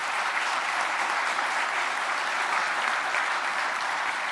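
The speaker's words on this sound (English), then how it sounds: "If you wouldn't mind, please giving them all a round of applause." An audience at a swearing-in ceremony for new officers applauds, a loud, dense and steady wash of clapping that holds at an even level for the whole stretch with no voices over it.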